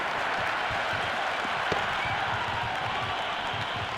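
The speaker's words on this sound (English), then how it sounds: "It's evident and ever so audible that the crowd is at near bursting point at today's play." A cricket crowd at a Pakistan vs England match keeps up steady, dense applause and cheering, a continuous roar of clapping heard from within the stands with no break.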